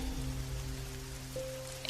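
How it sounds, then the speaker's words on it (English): Steady rain falls through a stormy night, a constant wash of droplets against surfaces with low hum tones running underneath, even and unbroken throughout. "The rain is easing off now."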